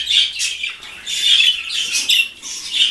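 Chicks chirping close by, a quick run of high, thin peeps and tweets repeating in bursts over about three seconds, with no talking.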